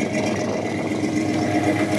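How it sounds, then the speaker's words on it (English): A 1975 Chevy K10 4x4 stepside pickup with a stroker motor and aftermarket pipes runs steadily, a loud, continuous engine rumble with slight rattle, no talking over it. "Nice sound. Stroker motor."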